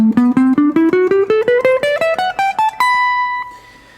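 A guitar runs up the major scale in seventh position, three notes per string, with about seventeen quick, clean plucked notes in a steady rhythm, ending on a sustained top note that fades.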